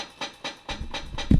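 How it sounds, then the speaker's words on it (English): Several soft metallic chick-clicks of hi-hat cymbals closing under a foot pedal in a slow, even pulse, with a low thump near the end. "That's the sound of 2 cymbals that will be going up and down, smacking each other."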